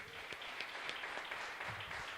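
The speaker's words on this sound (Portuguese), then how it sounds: "Me ajude a louvar ao Senhor com mais salva de palmas," A church congregation at the MGA headquarters in Santo André, São Paulo, applauds together. The clapping is fairly faint and roomy, a soft continuous patter with a few sharper claps standing out.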